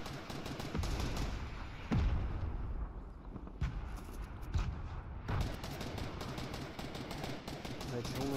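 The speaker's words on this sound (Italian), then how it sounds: "Quanto cazzo sparano?" Rapid bursts of Fortnite gunfire, close and loud, with several sharp shots cutting through and brief pauses between volleys, over a constant game background.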